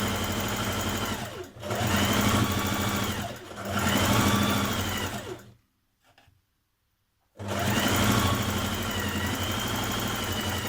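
A sewing machine stitches the seams of a dress made from a Simplicity 1537 pattern, with a 1.5 cm seam allowance. It runs in steady mid-pitched bursts, each a couple of seconds long, and stops for a clear pause before a final long run.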